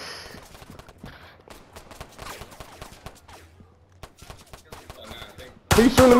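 Gunfire in the Roblox game Tha Bronx 2: scattered sharp cracks run through the clip, then a sudden loud, dense burst of shots closes it out.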